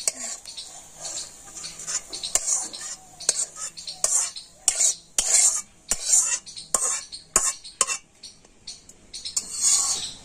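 Vegetables are mixed into a semolina batter with a spoon, giving loud, close, rhythmic scraping and clinking of the spoon against the bowl in repeated quick strokes, with no talking.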